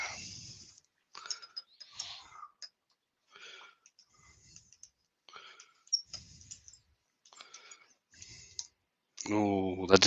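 An SK100 lathe chuck fitted with O'Donnell jaws is tightened with a chuck key, giving a series of sharp, close, irregular clicks separated by silences, with a burst of voice at the end.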